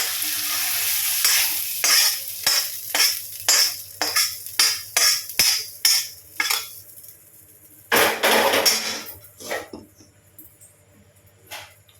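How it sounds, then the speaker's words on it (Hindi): Onions and tomatoes frying in a pan give a low sizzle under a run of sharp, rhythmic scraping strokes from stirring, which pause and then return in a louder burst before fading. "उसके बाद से प्याज टमाटर सब कुछ डाल के अच्छे से भून लेंगे।"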